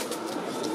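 Pigeons coo softly in a busy hall at a pigeon exhibition in Wrocław, a few low murmuring calls over steady room noise in a brief moment.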